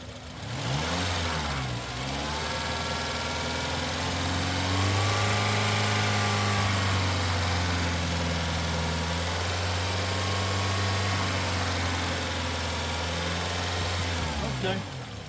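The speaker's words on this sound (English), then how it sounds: "I'm going to rev it up" A car engine idling and then revving up and down through several rising and falling sweeps, close and loud, during an ignition and fuel mixture test, with a voice briefly audible underneath.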